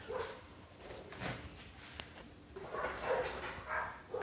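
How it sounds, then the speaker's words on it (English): Dogs going berserk at a possum up a tree outdoors, barking continuously and fairly distant amid broadband background noise, with no talking. "there's the dogs. They've spotted a possum in a tree. And they're going berserk."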